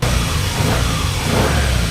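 A freshly refreshed car engine runs steadily nearby, a low continuous hum with slight revving and barely noticeable vibration.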